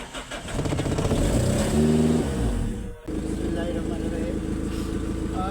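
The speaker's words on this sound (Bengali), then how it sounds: "আমি গাড়ি স্টার্ট করে পিছনে বাড়াইতেছি" An auto-rickshaw's small engine cranks and catches, revving in a loud close rattling drone that dips briefly before settling into a steady idle as the vehicle reverses.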